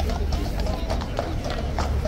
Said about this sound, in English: I'm not sure if the police horses are coming into here